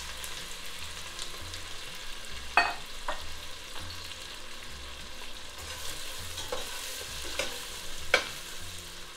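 Onions fry in hot oil for a chicken curry, giving a soft steady sizzle close by with a few sharp clicks of a utensil against the pan.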